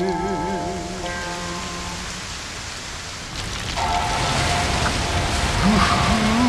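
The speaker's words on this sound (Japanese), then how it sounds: "雨" Rain falls steadily in Monster Hunter Rise Sunbreak as a broad, hissing wash that grows louder partway through, with game music and a voice over it.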